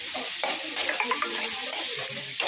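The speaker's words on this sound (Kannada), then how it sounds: "ಫಸ್ಟ್ ಎಣ್ಣೆ, ಸಾಸಿವೆ, ಕರಿಬೇವಿನ ಸೊಪ್ಪು, ಈರುಳ್ಳಿ ಎಲ್ಲ ಹಾಕಿ ಚೆನ್ನಾಗಿ ಬಾಡಿಸ್ಕೊಳ್ತಾ ಇದ್ದೀನಿ" Oil sizzling in a pan with mustard seeds, curry leaves and onion for an egg fry, a continuous crackling hiss with faint stirring scrapes, close and even throughout.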